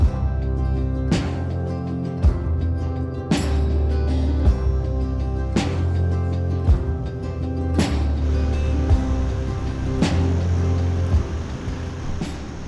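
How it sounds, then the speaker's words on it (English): A 250-series Toyota Prado drives along the sand beneath the Rainbow Beach cliffs at low tide, its engine a steady loud drone with a regular series of sharp thumps and knocks, probably from bumps in the sand. "the tide was out enough to go for a drive along the Rainbow Beach cliffs"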